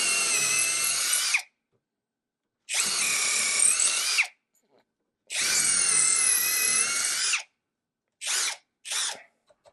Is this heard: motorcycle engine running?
no